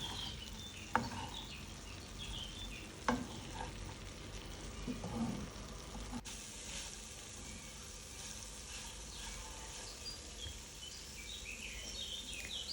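Vegetables and capsicum frying in a pan give a soft, continuous sizzle, faint and steady, with a couple of sharp clicks near the start.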